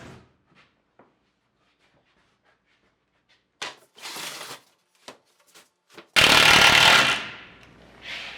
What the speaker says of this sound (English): that's what happens when you drill right on top of another screw